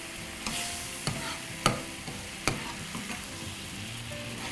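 Chili sauce stirred into honey garlic chicken in a sizzling pan: a soft, steady sizzle broken by a few distinct scrapes and clacks of a spoon against the pan.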